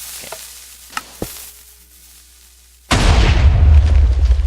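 Minecraft TNT cannon firing in a video game: a few faint clicks and pops, then a sudden loud, dense explosive roar that holds until the end.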